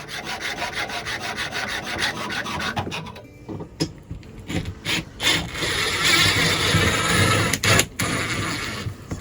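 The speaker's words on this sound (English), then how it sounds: "he's going to have to go cut the bolts because they're a little too long" Short bolts for rooftop RV air conditioner brackets being cut down to length: a loud, close run of rhythmic rasping strokes, then rougher, irregular scraping and grinding bursts that continue to the end.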